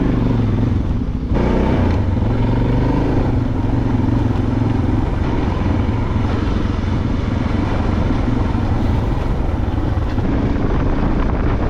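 Motorcycles riding on a dirt trail during a camping adventure loop, engines droning loud and close with shifting revs and rough wind buffeting across the microphone throughout.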